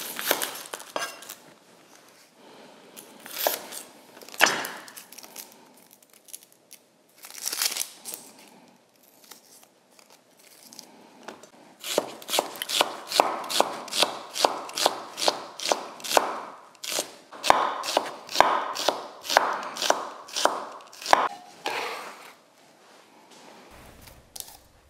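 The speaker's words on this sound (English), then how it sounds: "The next thing I'm gonna do is slice this really small red onion very thinly" Knife thinly slicing a small red onion, probably on a cutting board: sparse cuts at first, then a fast, steady run of crisp, close taps, with no one talking.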